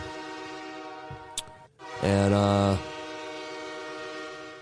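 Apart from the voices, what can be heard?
train horn and train passing sound effect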